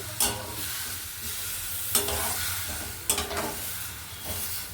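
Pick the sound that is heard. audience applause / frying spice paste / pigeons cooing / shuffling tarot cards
frying spice paste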